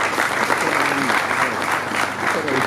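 Hall audience applauding professors at a general assembly session, steady dense clapping that fills the room throughout, loud and continuous with no break.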